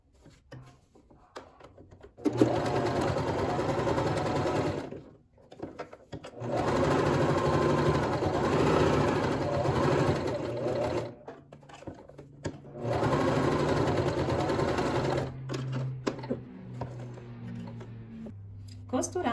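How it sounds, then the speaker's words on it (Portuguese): A sewing machine runs a seam around the edge of a piece made from fabric scraps, in three close, steady bursts of rapid stitching separated by brief pauses. "Eu vou passar a costura aqui em volta."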